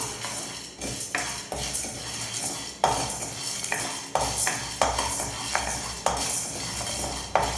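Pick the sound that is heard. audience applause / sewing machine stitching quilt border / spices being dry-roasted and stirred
spices being dry-roasted and stirred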